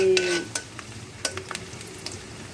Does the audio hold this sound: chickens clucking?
no